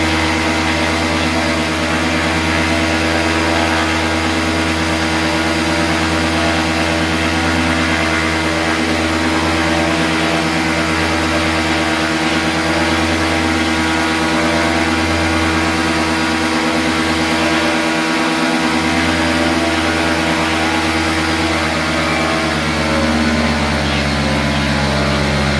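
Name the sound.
paramotor engine running during training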